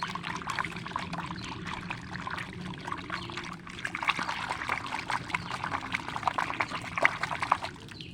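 Liquid sloshes and splashes inside a bottle as it is shaken hard, a busy, continuous watery churning heard close up without talk, briefly easing before picking up again.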